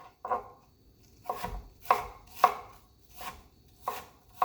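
A knife chops ingredients on a cutting board for a Jamaican bully beef dish: about six crisp, separate strikes spaced roughly half a second apart, close and clear with no talking.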